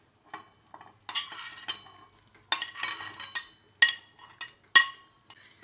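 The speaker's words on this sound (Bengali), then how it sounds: "এবার আমি কোপ্তাগুলো সব একে একে দিয়ে দেব।" Koftas are added one by one into a cooking pot, giving a series of light clinks and taps of utensil against metal, close and clear, spaced irregularly, with no talking.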